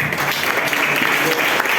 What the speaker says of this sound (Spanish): ¿Cuánto da un aplauso al Señor si lo creen?